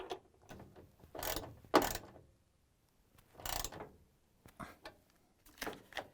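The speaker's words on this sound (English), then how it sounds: "we're going to tighten that bolt with this 12mm socket wrench" A 12mm socket wrench ratchet tightens a shipping bolt on an LG/Kenmore washer, giving several short bursts of ratcheting clicks separated by quiet gaps, close and moderately loud.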